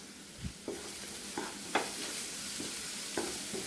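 Chopped chena and long beans frying in plenty of coconut oil on medium flame, an even sizzle broken by five or six distinct scraping stirs of a spatula, close and moderately loud, no voices.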